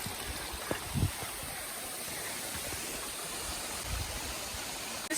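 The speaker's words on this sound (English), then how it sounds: "This is the waterfall right here." A waterfall produces a steady, broadband rushing roar heard from nearby outdoors, unbroken throughout, with a couple of brief bumps of handling noise.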